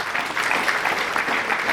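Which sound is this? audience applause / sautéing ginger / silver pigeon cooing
audience applause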